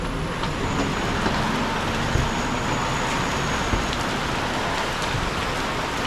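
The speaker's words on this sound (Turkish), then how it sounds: "Güzel bir yağmur var." Steady, dense rain pours onto a street in Hat Yai, Thailand, a continuous hiss with occasional faint traffic rumble underneath.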